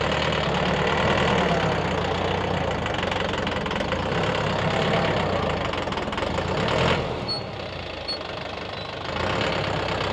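A YTO EX 604 tractor engine idles in reverse gear with a steady, knocking diesel rumble that holds close and constant, briefly shifting in tone near the end.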